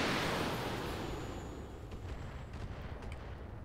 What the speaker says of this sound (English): Just gonna fire the LRMs.